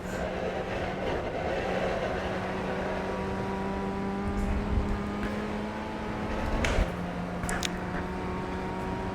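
An iRacing race car held at full throttle, its engine a steady sustained drone with rising harmonic tones, close and continuous, no talk over it.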